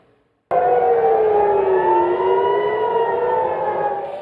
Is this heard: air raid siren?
yes